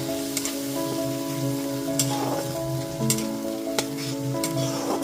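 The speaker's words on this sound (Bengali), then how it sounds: "এর মধ্যে চার মগজ আর কাজু বাদামের পেস্টটা দিয়ে দিচ্ছি গ্যাসের ফ্লেমটা লো টু মিডিয়ামে রেখে খুব ভালো মতো মিশিয়ে নিচ্ছি" Cashew and melon seed paste fries in a pan on low to medium gas flame while being stirred, producing a loud, steady sizzle with a rhythmic scraping of the spoon, close up and continuous.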